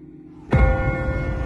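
A church bell in The Walking Dead video game strikes once, a sudden loud clang after quiet ambience that rings on with a sustained, shimmering resonance.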